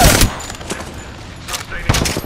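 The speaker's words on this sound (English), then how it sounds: "Making contact here. Shot fired. They're hitting me." Shooter video game gunfire comes in loud, close bursts at the start and again near the end, with quieter crackling shots between and a voice speaking over it.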